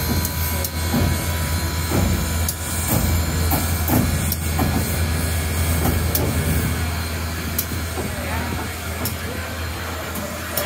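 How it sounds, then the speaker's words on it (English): Steam locomotive at a railroad turntable, a steady mechanical rumble with hissing steam and intermittent clanks and knocks, moderately loud and continuous, with a voice speaking faintly at times. "The way a steam locomotive operates"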